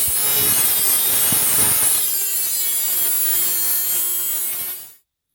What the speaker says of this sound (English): use a grinder or a hacksaw to cut off the bottom